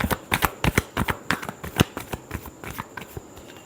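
A deck of tarot cards is shuffled up close in quick, crisp riffling bursts, a rapid train of papery slaps and flicks lasting several seconds with no voices.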